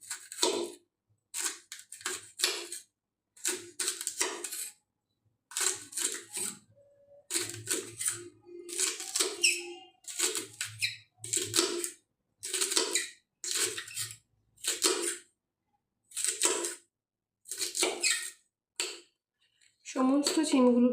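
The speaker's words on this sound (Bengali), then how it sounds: "সমস্ত সিমগুলোকে কুচি করে কেটে নেব।" Flat beans (shim) being finely chopped on a board for shim bata, a Bengali bean paste, with a steady run of quick, crisp knife taps falling in short bursts and brief pauses, close and fairly loud.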